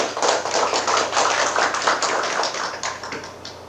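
Audience applause at a startup accelerator demo day in Cheongju, steady dense clapping from a crowd sustained throughout at moderate loudness.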